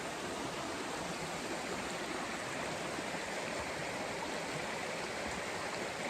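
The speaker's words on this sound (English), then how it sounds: "We have this beautiful creek here." A creek by a river flowing steadily, a dense, even rush of water that stays close and loud throughout with no voices.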